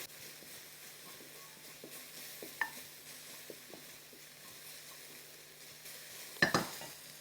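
Garlic heats in a small amount of olive oil, giving a low, steady sizzle with a few light scrapes and clinks from a utensil and a brief louder clatter near the end, with no talking.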